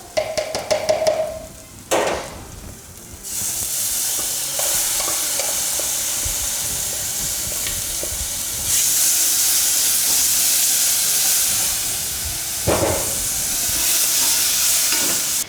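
Tomatoes sizzle and fry in a hot pan for a chapati and maharagwe meal, a steady loud hiss with stirring scrapes and bursts of steam throughout.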